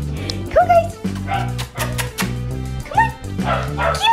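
Five-week-old puppies yip, bark and whimper in repeated bursts close by, with excited voices chattering over much of the noise.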